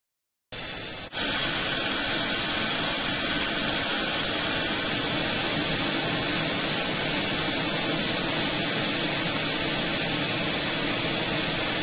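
A short noisy sample time-stretched to roughly two and a half minutes, producing a dense, steady, roaring wash of broadband noise like a jet engine that swells in after a brief onset and holds loudly throughout.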